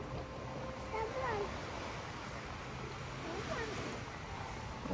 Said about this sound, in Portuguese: O mar ali.